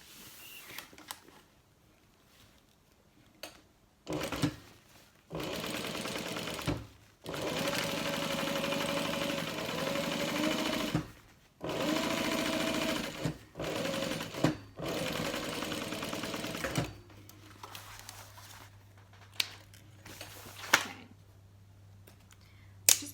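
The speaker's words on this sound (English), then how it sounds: "turn my stitch length back up so I can top stitch" A domestic sewing machine topstitches a fabric tote bag with a long stitch length, running in several loud bursts of steady motor whir separated by short pauses, heard alone with no talk.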